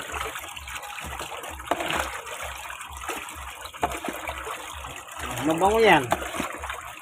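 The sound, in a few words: water running from a tap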